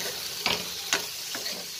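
A spatula stirs food in a nonstick pan over a steady sizzle, with three distinct scraping strokes spaced about half a second apart, heard close up.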